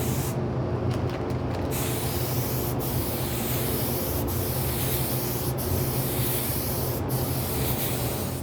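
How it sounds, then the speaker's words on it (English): A spray gun lays clear coat over a painted helmet in a continuous hissing spray, broken by a few short bursts as the trigger releases and then catches again. "We're going to clear coat that before we do anything else."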